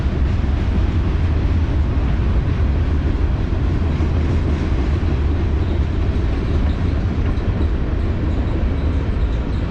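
A train rumbles past close by in Pittsburgh, loud and continuous, heavy low clatter of wheels on rails with no break.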